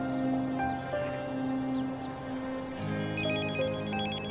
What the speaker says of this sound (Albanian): Si duket po telefonojnë?